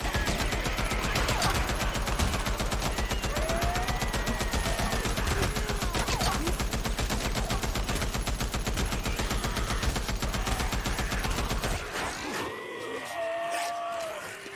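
Rapid, sustained automatic gunfire from a zombie-survival video game, bursts hammering continuously with a dense machine-gun rhythm for about twelve seconds, then cutting off into quieter game ambience with scattered fainter sounds.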